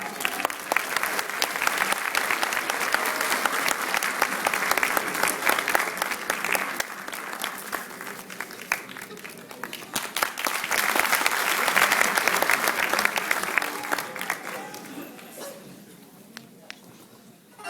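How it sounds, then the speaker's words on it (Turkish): An audience claps to welcome art director Nedret Avşar onto a stage, sustained applause rising in two waves before thinning to scattered claps. "sanat yönetmeni Nedret Avşar alkışlarınızla gelin efendim"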